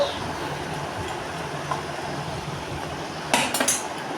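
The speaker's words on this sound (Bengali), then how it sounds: "এবার আমরা বেগুনের সঙ্গে ভালো করে নেড়ে চেড়ে নেব" A spatula scrapes and taps against a wok while fried eggplant is stirred for a hilsa fish curry. A low rumble runs throughout, and a cluster of sharp metallic clinks comes near the end.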